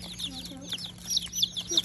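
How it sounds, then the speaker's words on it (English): Small layer chickens on a homestead give soft, close, repeated clucks and peeps over a low hum, with faint talk behind them. "Here are beautiful little chickens."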